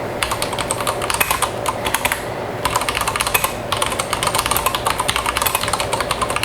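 Rapid, continuous keystrokes on a compact Stoga MK22 keyboard, close and dense clicking with a brief pause partway through, no voices.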